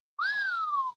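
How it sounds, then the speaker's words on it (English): One clear whistle, about three-quarters of a second long, rising briefly and then gliding down. It sounds close and stands alone against silence. "Someone's whistling at me."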